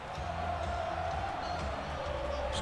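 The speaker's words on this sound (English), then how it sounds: "This crowd is going crazy right now." Crowd noise from a college football video game, East Carolina against SMU, a steady roar that holds the whole stretch under a sustained tonal hum and low rumble.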